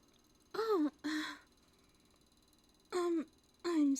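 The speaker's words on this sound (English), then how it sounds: "I'm sorry for yawning." A young woman's sleepy yawn, voiced as two pairs of short, breathy sighs that slide downward in pitch, close and clear, with silence between them.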